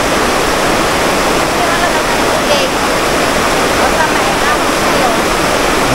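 A strong mountain river in Camarines Sur, Bicol rushes past in a loud, constant roar of churning water that fills the whole stretch without a break.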